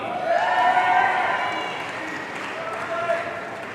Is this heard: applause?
yes